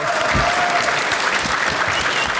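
Dense, steady applause from a convention audience fills the room for a comic book writer at a Spider-Man writers panel, a continuous wash of many hands clapping with no pauses.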